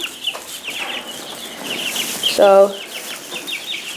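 Young chicks in a chicken barn give soft, scattered peeps and clucks, with one louder, sharper call near the middle, under a brief spoken word.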